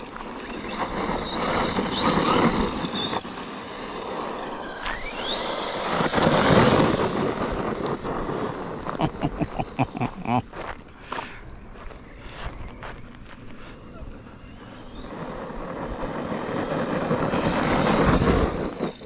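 A Team Associated Rival MT10 RC monster truck at full throttle outdoors, its electric motor whining up and down in loud surges with a rattling, gear-heavy drone, fading and returning as it passes.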